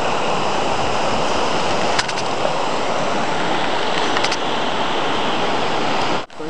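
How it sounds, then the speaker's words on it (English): A river flows through the valley at Kamikochi in autumn, a steady broadband rush of water that stays loud and constant throughout, with a few faint clicks and no voices. "This is the river"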